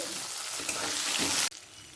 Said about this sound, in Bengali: টমেটো আর নারকলটা এক মিনিট ভাজা হয়ে গেছে